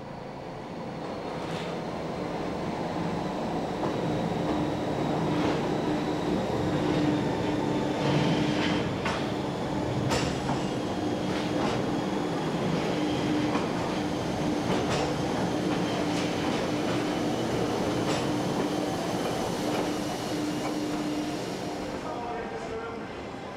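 A Jungfrau Railway train climbs to Jungfraujoch with a steady rumble, rhythmic clicks over rail joints and a sustained tonal whine, swelling and then fading slightly toward the end.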